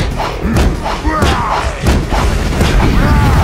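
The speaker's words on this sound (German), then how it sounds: "Explosionen des Lebens!" Rapid, heavy explosions from the video game Borderlands 2, a dense run of loud booms and thuds packed close together over about three seconds, with no pauses between them.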